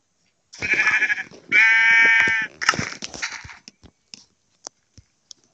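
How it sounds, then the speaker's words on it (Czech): A few loud, close sheep bleats in quick succession in Minecraft Pocket Edition, followed by sparse sharp clicks and taps and then quiet. "Ať nám ovce neutečou."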